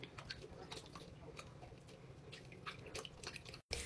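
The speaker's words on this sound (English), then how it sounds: "Now I'm just gonna scrub it" Dirty stress ball scrubbed by hand in a plugged sink filled with water, giving steady wet squishing and rubbing with scattered drips and splashes, close up, no talking.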